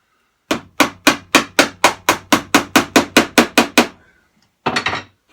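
A hammer strikes a tack into wood aboard a narrowboat in a fast steady rhythm, about fifteen sharp ringing blows, then a pause and a few quicker taps.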